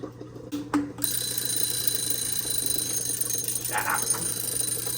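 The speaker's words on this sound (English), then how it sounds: "That timer's for our egg" A kitchen timer marking a boiling egg rings in a continuous, steady electronic alarm that starts after about a second and keeps going, with faint kitchen clatter beneath and no talk.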